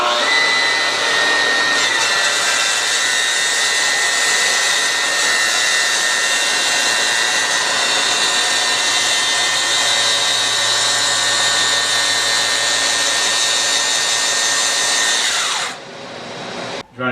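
A saw cuts wood for a bathroom vanity, a loud, steady, continuous rasping drone lasting about fifteen seconds before stopping abruptly, with no talking.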